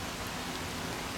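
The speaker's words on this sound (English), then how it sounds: "So the weather has broken" Steady rain during a thunderstorm, heard from inside a narrowboat on a canal: a dense, even hiss of drops with a soft low rumble underneath, continuous throughout with no voices.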